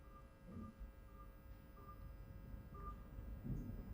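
Telephone keypad tones as the pound key is pressed while entering a phone number for an automated customer service line, a few short evenly pitched beeps spaced through a quiet background.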